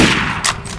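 Gunfire in the video game Left 4 Dead 2 comes as a few quick, loud, close shots in rapid succession within less than a second.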